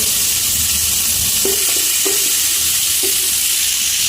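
Crushed ginger, garlic and green chili sizzle steadily in hot oil while being cooked for biryani, with a few soft spoon scrapes of stirring rising briefly above the continuous frying hiss.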